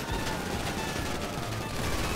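Sustained gunfire in GTA V Online during a Duke O' Death armored-vehicle run, a dense continuous clatter of shots filling the whole moment with no voices over it.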